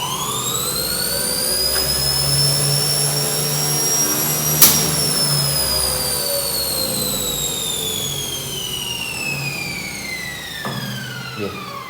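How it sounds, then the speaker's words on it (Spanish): Electric motor rated 1800 RPM runs on 120 volts, giving a steady whine whose pitch slowly slides, with a couple of sharp clicks and a low hum beneath, close and continuous. "¿gira el motor rápidamente? Sí, considerando que este motor, según sus placas de datos, es de 1800 RPM"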